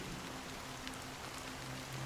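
Steady rain in the video game Honkai: Star Rail, a soft even patter falling continuously on a surface, with a faint low tone underneath and no talking.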